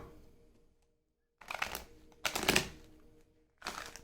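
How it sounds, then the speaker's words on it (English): Tarot cards riffle and shuffle in several quick bursts, with short quiet pauses in between; close and fairly soft. "We'll throw one more set of shuffles on you."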